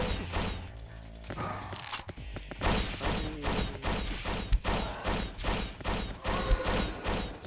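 An eight-rocket launcher fires in the Hunter: The Reckoning video game, a loud, dense run of repeated blasts and mechanical clatter following one another in rapid rhythm, with no talking.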